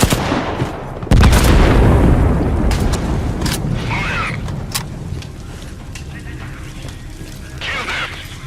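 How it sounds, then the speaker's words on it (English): A booming explosion in the video game Sniper Ghost Warrior 3 hits suddenly and loudly, followed by a long rumbling tail, scattered sharp cracks and distant gunfire. "Explosion on the perimeter!"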